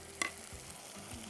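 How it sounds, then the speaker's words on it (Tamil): Onions and spices sautéing in a pan as turmeric, chili and coriander powder are stirred in, a faint low sizzle with a small clink of the spoon, close and quiet. "நல்லா வதக்கிட்டு இதில் மஞ்சள் தூள், மிளகாத்தூள், தனியாத்தூள் போட்டுக்கலாம்."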